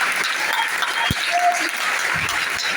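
A church congregation breaks into sustained applause, a dense wash of clapping with scattered voices and shouts rising within it.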